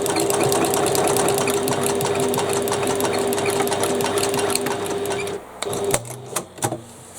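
A sewing machine sews across the end of a stapled fabric bag, running loud and continuous at close range for over five seconds, then stopping, followed by a few clicks and handling knocks.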